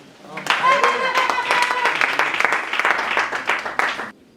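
A church congregation breaks into loud, dense clapping during a sermon, with some voices mixed in. The applause starts abruptly, stays steady for several seconds, then stops sharply.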